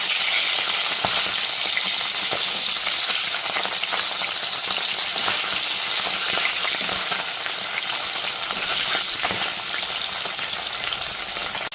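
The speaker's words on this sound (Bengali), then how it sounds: "মাছের এক পিঠে হয়ে গেলে পরে অপর পিঠে উল্টে ভেজে নেব।" Pomfret fish pieces coated in raw mustard oil and vinegar fry in hot oil with a constant, loud sizzle and occasional crackles and spatters, steady throughout with no voices.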